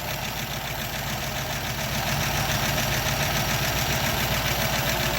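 A 1936 Buick Century engine with freshly repaired exhaust manifold and unadjusted valves idles while warming up after weeks unused, a steady close mechanical churn with faint ticking, running alone without talk.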